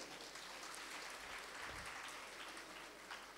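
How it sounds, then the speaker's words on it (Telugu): Audience clapping together at a Shivaratri spiritual talk event, a steady, fairly faint wash of applause that carries on evenly throughout with no talking over it. "తెలియని వాళ్ళందరికీ చప్పట్లు కొడదాం"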